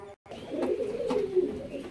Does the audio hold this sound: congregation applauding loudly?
no